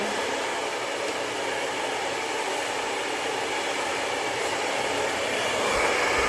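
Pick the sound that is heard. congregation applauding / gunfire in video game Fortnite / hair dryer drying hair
hair dryer drying hair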